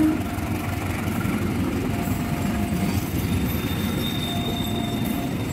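A KRD feeder train for the Bandung high-speed rail line runs past on the tracks near a junction in Solo, its steady loud rumble filling the whole stretch, with faint wheel squeal over the roar and no talk.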